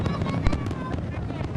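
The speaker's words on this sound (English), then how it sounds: "As the clock struck midnight, a massive fireworks display brought joy to those present." New Year's midnight fireworks display, dense crackling bursts and pops sounding continuously, with a voice talking over them.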